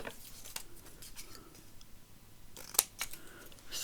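Scissors snip through paper being trimmed for a journal front cover, a few quiet close-up cuts with a sharper snap near the end in a calm room.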